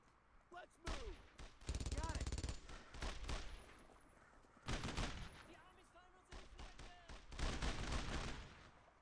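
Machine gun fire in a wartime video game comes in several loud bursts of rapid shots, echoing, with pauses between volleys and other gunfire around it.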